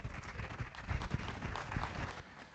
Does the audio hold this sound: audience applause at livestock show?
yes